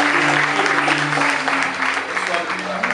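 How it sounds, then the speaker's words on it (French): A church congregation at a night prayer vigil in Abidjan breaks into sustained applause mixed with crowd acclaim, dense and loud throughout, with a low steady tone running beneath the clapping. "Acclame Jésus pour toutes ces personnes."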